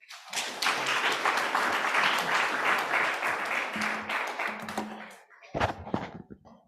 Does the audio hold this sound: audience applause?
yes